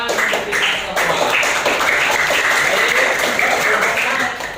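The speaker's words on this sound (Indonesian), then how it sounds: "tepuk tangan untuk kita semua" Applause breaks out in a classroom, students clapping in a dense, steady patter that fills the room, with some voices mixed in throughout.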